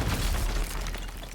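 A blast goes off in the tactical video game Warhammer 40,000: Chaos Gate - Daemonhunters, likely from a meltagun, giving a loud, dense low boom that rolls on briefly with a sustained rumble and no talk over it.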